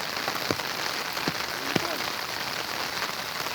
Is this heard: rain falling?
yes